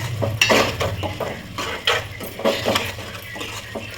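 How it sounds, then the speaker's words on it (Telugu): A spoon stirs brinjal and prawn curry in a pan, scraping and clinking against the metal with a soft sizzle underneath, steady and close throughout. "ఇంకా ఇలా కలిపేసుకుందాం"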